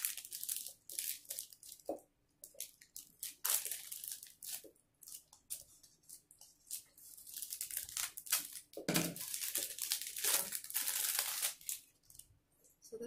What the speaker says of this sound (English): I'm gonna have to tear it open because it hit the bottom